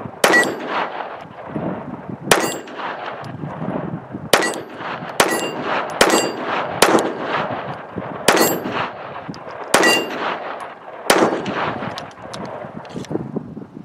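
A Ruger LCP II pistol fires CCI Stinger 22LR supersonic rounds in about a dozen sharp, loud reports with uneven gaps, each cracking out with a short ringing tail.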